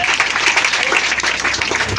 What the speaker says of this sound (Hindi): इसलिए आकिब बाबू के लिए एक बार जोरदार ताली आप लोग।